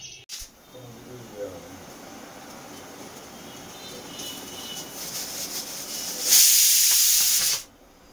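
A pressure cooker of dalia khichdi on a gas stove at high flame gives a low steady hiss of steam that swells to a loud, sharp, rushing release near the end before cutting off.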